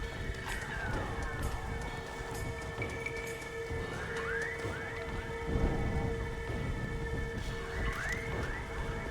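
Steady rain and rumbling thunder fill a stormy night in Red Dead Redemption: Undead Nightmare, with horse sounds, a sharp crack partway through, and faint voices under the continuous downpour.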